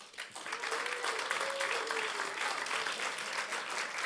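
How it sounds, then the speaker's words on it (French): Applause from an audience at a local televised music contest awards ceremony, a steady, dense wash of clapping lasting about four seconds. "félicitations à eux, vous pouvez les applaudir."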